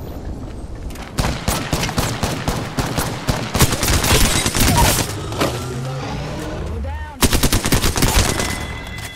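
Rapid gunfire from Apex Legends weapons, dense bursts of shots running almost continuously and loud, with a brief lull before another sharp volley near the end; a voice speaks briefly amid the shooting.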